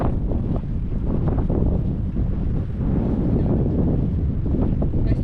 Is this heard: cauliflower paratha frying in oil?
no